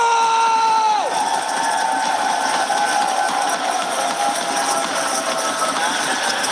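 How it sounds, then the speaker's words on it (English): A crowd at an esports watch party cheers and whoops, a sustained wash of shouting voices with some high-pitched screams, while a tone glides downward near the start and an announcer's voice carries over the noise. "we do have quite a bit of crowd presence"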